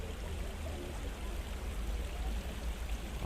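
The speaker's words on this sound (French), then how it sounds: "Cette rivière aussi, c'est bien la première fois que je la vois fonctionner." Artificial river in the Buttes Chaumont park, Paris, flowing with a faint, continuous babble and trickle of water, with a low rumble underneath and no talking.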